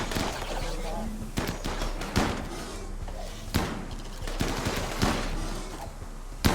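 Gunfire in the video game RimWorld: repeated sharp shots crack out every second or so over a dense, noisy battle background, with voices talking throughout.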